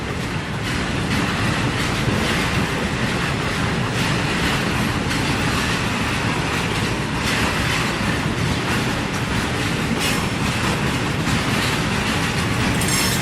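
A freight train loaded with chemical fertilizer rolls through Nakhon Ratchasima station in the evening, a loud, continuous rumble with rhythmic clickety-clack from the wheels and faint squeals, heard close with no voices.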